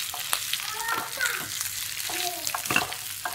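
Jowar vadis gently sautéed in a pan, a continuous close sizzle with soft scraping stirs and occasional spatula knocks, moderately loud and unbroken, with no speech.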